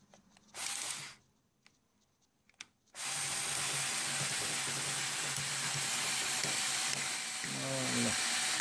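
Ferm cordless screwdriver driving a screw back in, a steady whirring motor run of about five seconds after a couple of short bursts and clicks, close up.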